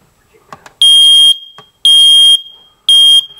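A home smoke alarm under test gives three loud, piercing beeps in a regular rhythm, each about half a second long, with faint handling clicks before them.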